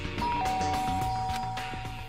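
A doorbell in Danganronpa: Trigger Happy Havoc gives a clear electronic ding-dong chime over quiet background game music.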